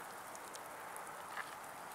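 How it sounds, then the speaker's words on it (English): Steady hiss of light rain pattering outdoors on a hiking trail, continuous and even, with a few faint droplet ticks. "Oh yeah, it's raining."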